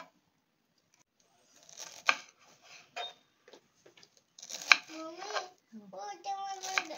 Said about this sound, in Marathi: असा प्रत्येक आपण शेवळा आहे ना कापून घेणार आहे, बारीक बारीक असा